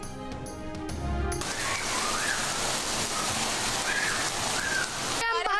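Heavy rainfall in Karachi pours down steadily and loudly, a dense continuous hiss of rain on surfaces, with a short burst of other sound at the start and faint voices in the background.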